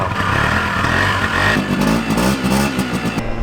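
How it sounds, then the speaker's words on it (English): A 50cc scooter engine runs steadily at idle, a loud, continuous low putter with a faint rattling clatter and no talking. "maybe you're sick of your 50cc scooter sounding like this"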